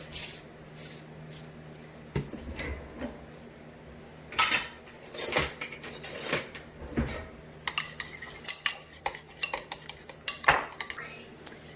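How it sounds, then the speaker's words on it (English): A stir stick mixes paint colors in a container for a faux granite finish on a kitchen island, with irregular scraping, knocks and clinks of wood against the container, close and moderately loud, and no talking. "So I'm just going to mix these colors together"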